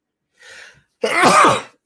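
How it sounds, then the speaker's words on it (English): A short inhale is followed by one loud, close sneeze, with nothing else around it. "I have to sneeze"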